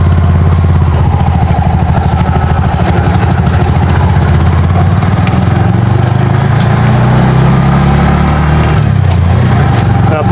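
A Bajaj RE trike's engine runs steadily on a farm road, a loud, continuous mid-pitched hum with rattling clatter throughout, close up and unbroken.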